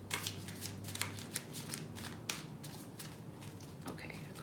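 Tarot cards being shuffled by hand at close range, a steady run of soft riffling and flicking with a few sharper snaps, quiet throughout.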